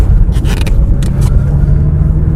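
A Mazda RX8 rotary engine warming up, a steady loud low rumble that holds even throughout with little change in pitch.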